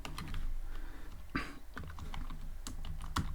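Keys clatter on a computer keyboard in short irregular bursts of typing, close and fairly quiet, with a louder keystroke near the middle and another toward the end, no talking.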